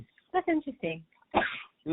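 One sharp sneeze bursts out in the middle of a casual indoor conversation, loud and close, with people talking just before it.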